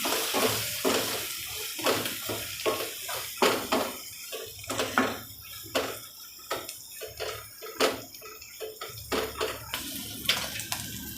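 A spoon stirring coriander-cumin powder, turmeric, Kashmiri red chilli and garam masala into a pan for gunda methi shaak, producing repeated scraping and sizzling strokes in an irregular rhythm, loud and close.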